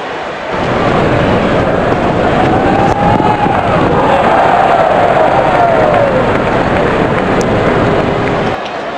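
Crowd at a cricket match between West Indies and Zimbabwe in a World Cup qualifier, a steady broad roar of cheering and noise carrying on for the length of the clip with no talk over it.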